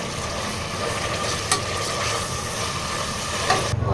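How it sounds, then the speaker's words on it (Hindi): Half a kilo of washed mutton keema frying with ginger, garlic and spices in a pan, giving a loud, continuous sizzle with stirring scrapes throughout and no talk. "कीमे को हमने अच्छे से धो लिया है, तो बस इसे थोड़ी देर फ्राई कर लेंगे मसाले के साथ"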